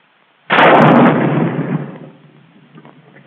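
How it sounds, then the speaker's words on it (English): A 1943 M1 bazooka rocket launcher fires with a sudden loud blast, followed by a roaring rush that fades over about two seconds, with no voices. "The same team is firing here"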